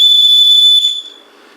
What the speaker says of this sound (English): But it is a good little whistle